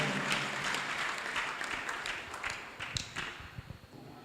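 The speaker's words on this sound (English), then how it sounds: "Let's clap hands for Jesus." Audience clapping hands at a church gathering, a fairly faint spread of many palms with some quicker sharp claps, heard from a distance.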